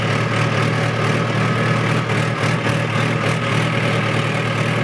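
Mahindra tractor sitting at idle, a constant close diesel chug with a low throbbing hum and no change in pace, alone without speech.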